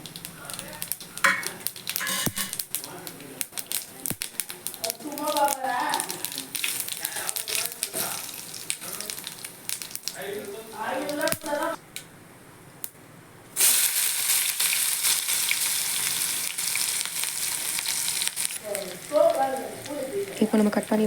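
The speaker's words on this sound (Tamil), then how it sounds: "எண்ணெய் காஞ்சதும் காஞ்ச மிளகாய், கடுகு," Dried chillies, mustard seeds and cumin frying in hot oil, a steady close sizzle that jumps louder partway through, with intermittent voices talking over it.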